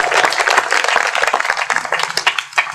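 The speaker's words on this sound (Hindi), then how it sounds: "तालियां बजाते हैं" A crowd at a Hindi humour and satire stage show claps hard and fast, with sharp individual claps close by and the applause easing slightly toward the end.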